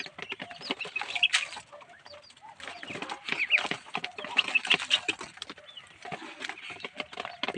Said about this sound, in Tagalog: Walang manok, 7 sisiw ng pato.